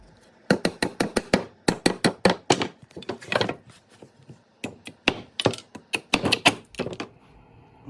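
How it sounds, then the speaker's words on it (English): Hammer knocking nails out of pallet wood slats: sharp, rapid wooden knocks in quick bursts of several blows separated by short pauses, close and loud with no talking. "just gotta knock the nails out of these slats"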